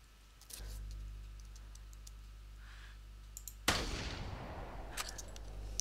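A rifle shot in theHunter, a hunting video game, cracks out once as a sudden loud broadband blast, leaving a dense noisy tail behind it, while a steady low hum runs underneath throughout.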